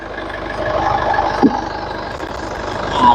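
A 2015 Isuzu D-Max All New X-Series four-door pickup idles with its 2500cc engine, giving a steady, moderately loud low rumble at close range with a couple of small bumps in level.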